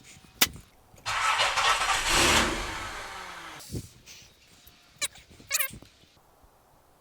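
A Nissan 300ZX Z31 engine cranks without fuel for a couple of seconds, a whirring starter churn that fades out without catching, framed by sharp clicks and clunks and a dog barking nearby.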